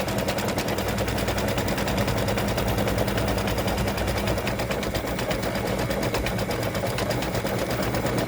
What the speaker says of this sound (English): this is stitching the outside part of the gift tag